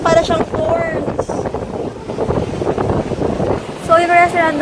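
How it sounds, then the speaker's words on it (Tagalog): Strong wind buffets the microphone at a beachfront restaurant in Batanes, a steady rough roar under people talking close by. "Pero sobrang hangin."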